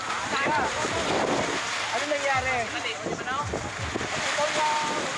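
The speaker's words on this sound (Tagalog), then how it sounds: "Sobrang malakas ang hangin." Strong wind roars steadily across the microphone at sea, mixed with water and surf noise from a paraw sailboat race, while people talk and exclaim over it.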